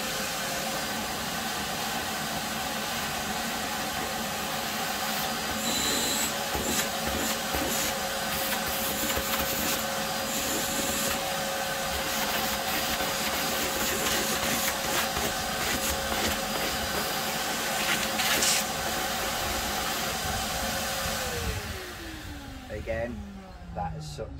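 A TITAN wet and dry vacuum sucks up plaster dust, a loud, steady motor roar with a constant whine that runs continuously and then winds down with a falling pitch as it switches off near the end.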